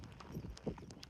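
A horse walks along a rural hiking trail, giving a few soft hoof clops in uneven steps, faint and fairly close, with no talk.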